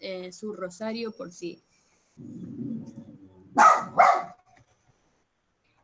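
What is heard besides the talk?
dog barking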